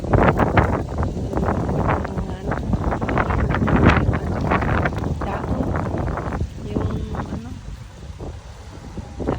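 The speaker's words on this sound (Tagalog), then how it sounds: "Malakas ang hangin." Strong wind gusts buffet the microphone at Magic Island beach in Hawai'i, a loud continuous roar with rushing surges that ease slightly near the end, while people talk over it.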